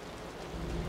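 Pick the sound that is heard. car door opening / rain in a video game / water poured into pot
rain in a video game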